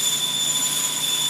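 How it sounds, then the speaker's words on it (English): Fret wire fed into a bandsaw while repairing a crate guitar: a steady, loud, high-pitched whine with sharp tonal overtones, continuous and unbroken throughout with no talk. "That high-pitched sound you hear now is fret wire being fed on a bandsaw."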